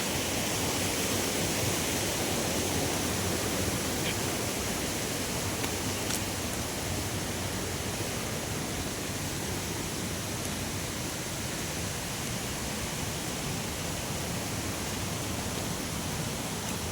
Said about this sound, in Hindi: एक छोटा और झरना